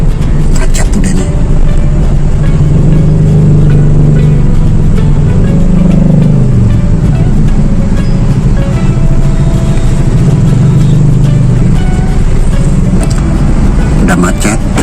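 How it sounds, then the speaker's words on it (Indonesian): Congested traffic on a road into Banten, a steady wash of idling and slowly moving engines with low rumble throughout, while people talk over it close by. "Udah macet masuk ke wilayah Banten atau ke gerbangnya."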